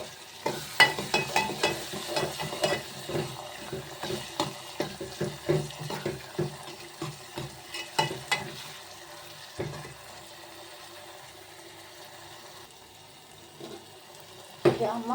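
Sun-dried desi tomatoes frying in a pan for a brinjal bharta tempering, a run of quick stirring scrapes over a light sizzle, close, then tapering into a quieter hiss.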